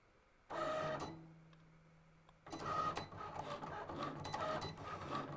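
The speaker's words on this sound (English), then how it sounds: "the nice thing about the Cricut Explore 3 is it cuts super fast, so we won't have to wait long." A Cricut Explore 3 cutting machine runs in two bursts, a short whirring pass then a longer busy stretch of motor whine and carriage movement, close and moderately loud with no talking.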